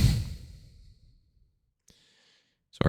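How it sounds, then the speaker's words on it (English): A heavy sigh-like breath pushed straight into a microphone, loud and close at the start and trailing off into near silence, followed by faint clicks and a brief rustle at the end. "I keep breathing into this fucking mic."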